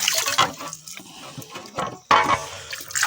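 Running water from a tank splashes in irregular bursts during washing, close and fairly loud, with gurgles and drips between the gushes.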